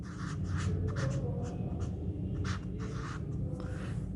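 Pen or marker writing room labels onto a drawn house floor plan, a steady close scratching and scribbling with short strokes and brief pauses, no talking.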